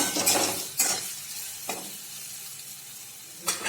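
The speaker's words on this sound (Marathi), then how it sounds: "हळद, धनेपूड आणि मीठ हे सर्व याच्यात ओतूया आणि हलवून घेऊया" Turmeric, coriander powder and salt stirred in a hot pan for a green chilli and cluster bean dish: three or four scraping strokes over a quiet, soft sizzle.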